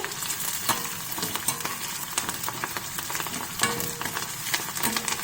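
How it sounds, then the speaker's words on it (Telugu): Onions, green chillies and curry leaves fry in hot oil, giving a dense, continuous crackle and sizzle close up, with stirring scrapes running through it and no talk. "చిటాపటా సౌండ్ అయితే వస్తుంది కదా అది వేగాక మనం దాంట్లో ఉల్లిపాయలు పచ్చిమిరపకాయలు వేసేసుకొని అలా వేయించేసుకుందామండి"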